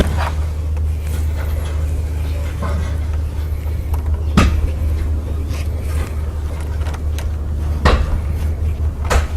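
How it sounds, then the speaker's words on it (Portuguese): Pliers tighten a grounding connector on an electrical installation, a few sharp metallic clicks and knocks over a steady low rumble, loud and close. "Estou apertando com o alicate,"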